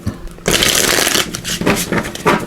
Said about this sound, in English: Just give these a quick shuffle.